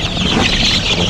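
A KUB chicken squeals loudly while pinched at the end of a pen on a poultry farm, a dense, continuous, near, shrill cry that fills the whole short moment alone.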